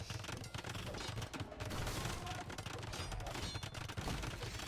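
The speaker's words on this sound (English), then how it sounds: "A couple of bombard cannons still working away." Bombard cannons fire in Age of Empires II during a Teutons battle, a dense, continuous barrage of booming shots and crackling impacts, fairly faint and steady throughout.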